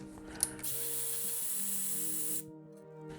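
Ratchet wrench loosening the brake caliper bolts on a 2021 Aprilia RS 660, a close, steady run of fast clicking pawl strokes lasting a couple of seconds before stopping, with no talk.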